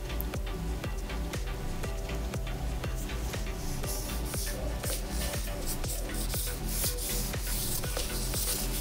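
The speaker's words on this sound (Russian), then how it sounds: "Берем немного муки, наносим." Flour rubbed by hand over damp skin during sugaring hair-removal prep, a steady dry rasping friction with quick repeated strokes, close and continuous throughout.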